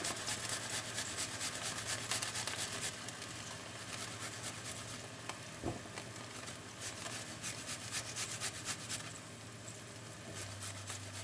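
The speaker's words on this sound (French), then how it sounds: "Et je râpe de gousses d'ail" Garlic cloves rubbed against a grater in a home kitchen, a steady scraping rasp running throughout at moderate level, close up, with one brief knock midway.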